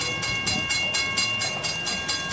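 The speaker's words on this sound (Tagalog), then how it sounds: "May tren-trenan pa dito." Tourist road train rolling past on a street in Valletta, Malta, a continuous rumbling drone with rhythmic clattering pulses, fairly close and steady, with no voices.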